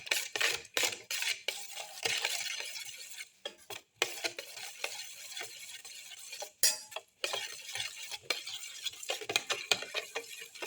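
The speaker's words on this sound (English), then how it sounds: "Mix in the salt." A spoon stirs salt into a cashew omelette mixture in a bowl, clicking and scraping in a fast, irregular rhythm against the sides, close and fairly loud with no talking.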